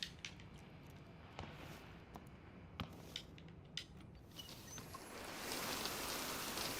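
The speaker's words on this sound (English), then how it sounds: "Still raining." Rain falls over a farm in the game Generation Zero, a faint continuous patter with scattered footstep-like thuds and clicks, growing into a louder, brighter hiss toward the end.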